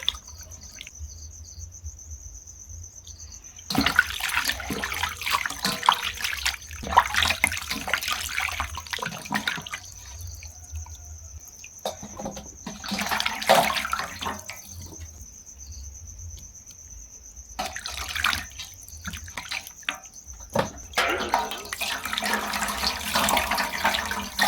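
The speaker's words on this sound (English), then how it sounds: "I want to go ahead and rinse them up second time." Nile perch being rinsed a second time in water in a village setting, bursts of splashing and sloshing alternating with quieter pauses, while crickets chirp steadily in the background.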